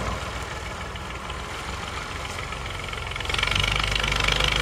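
A Massey Ferguson 240 tractor engine runs with a steady low knocking diesel rumble, close and continuous, growing slightly louder toward the end as it revs, with no talking.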